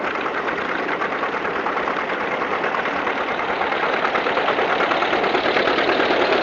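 An old John Deere G tractor engine chugs steadily and loudly nearby at a grand parade, its low rhythmic putter unbroken throughout.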